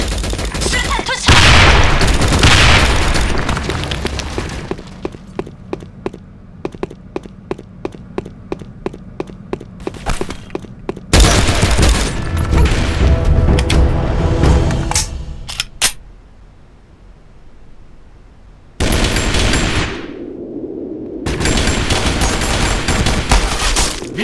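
Online shooter game combat with booming grenade blasts and bursts of gunfire, including a long run of evenly spaced rapid shots, loud and close, with gaps of quieter sound and a brief voice.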